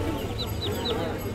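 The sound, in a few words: large turkey calling at a poultry market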